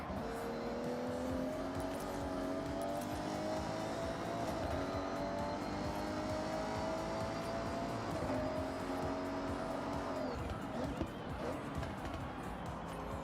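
A racing car engine from a video game race drones continuously with shifting, gliding revs, while someone talks over it throughout.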